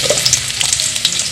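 Onions land in a hot pan after the garlic has browned, giving a loud, dense crackling sizzle with quick spatters throughout, close up and with no voices.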